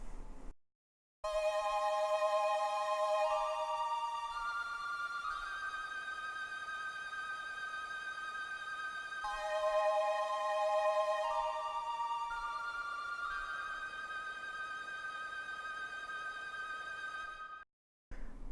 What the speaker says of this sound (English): On the B section of that chorus, we've got a synth track that comes in,